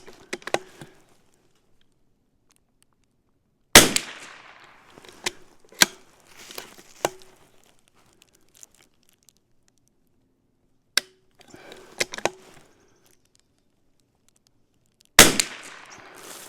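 CZ 457 rifle firing test rounds while a headspace or firing pin fault is being checked: two loud, sharp cracks about eleven seconds apart, with fainter clicks, knocks and handling noises in the quiet between them.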